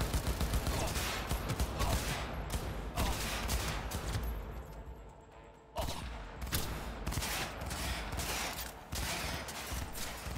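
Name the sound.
gunfire from a weapon in the video game Cyberpunk 2077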